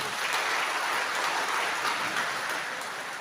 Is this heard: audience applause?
yes